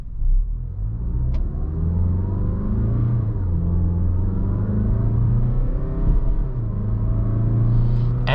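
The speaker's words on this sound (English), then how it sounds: "I definitely like the quick revving nature of this 4-cylinder" A 2020 Mazda CX-5's 4-cylinder engine revs steadily while driving, a continuous close rumble with rising and falling harmonic pitch as it accelerates, with no talking.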